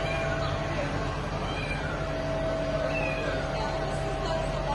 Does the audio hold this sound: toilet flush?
no